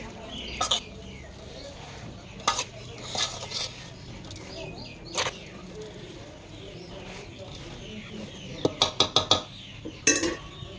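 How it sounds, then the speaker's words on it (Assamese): A spoon stirs spiced chili pickle in a bowl, giving scattered sharp clinks and scrapes against the bowl in short bursts, close by, with a voice talking quietly in between. "এতিয়া লাহে লাহে মিশ্ৰণটো কৰি ল'ম জলকীয়া যে সেইকাৰণে চামুচ এখন লৈ লৈছোঁ"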